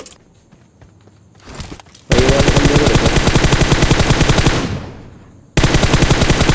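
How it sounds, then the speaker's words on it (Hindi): Sustained automatic rifle bursts from a PUBG Mobile match, loud and close, with a rapid steady rhythm of shots running for about three seconds, a brief fade, then another loud burst starting abruptly. "सामने से भी भाई बंदों की फायरिंग के साउंड आते हैं"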